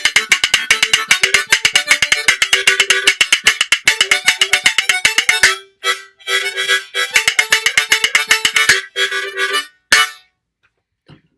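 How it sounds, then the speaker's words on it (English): Rhythm bones clatter in a rapid jig rhythm, loud and close, with dense runs of sharp clicks broken by short pauses and a final isolated tap. "the inherent rhythm in the bones is the jig"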